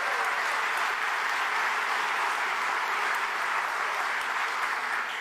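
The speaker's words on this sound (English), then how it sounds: "Pearl Foo, let's give her a big round of applause." An audience at a speech in a theater claps steadily throughout, a dense, sustained wash of applause with no pauses.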